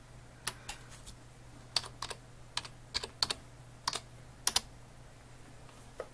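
Computer keyboard typed one-handed, giving sparse, irregular clacks with uneven gaps, close and fairly quiet over a steady low hum, with no talking.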